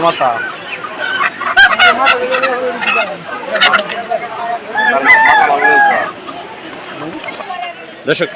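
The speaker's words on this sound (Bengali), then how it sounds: "এই পাশে যে মুরগিগুলো দেখতেছেন এগুলো কিন্তু ব্যাপারীরা ক্রয় করে এখানে যে খাঁচা বন্দি করে রাখছে" Many caged chickens clucking and squawking close by at a poultry market in Haluaghat, with a busy market chatter of voices mixed in throughout.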